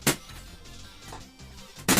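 Two sharp, bright balloon pops in a video game, one at the start and one at the end, with quiet game sounds and low murmurs in between.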